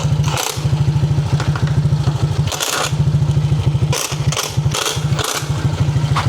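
A motorcycle idling with a TRC Racing powerpipe exhaust, loud and close, its rapid pulsing putter running steadily with a few brief dips and sharp clatters.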